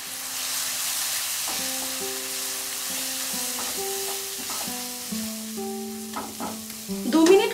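Spice paste with garam masala and a splash of water fries in a pan, giving a steady sizzle with scraping stir strokes and clinks throughout, close and moderately loud.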